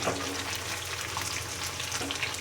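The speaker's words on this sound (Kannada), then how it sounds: "ಕಬಾಬು ಇಷ್ಟು ರೋಸ್ಟ್ ಆದರೆ ಸಾಕು" Chicken kabab pieces fry in hot oil at home, giving a steady, dense crackling sizzle that continues without a break and with no voices.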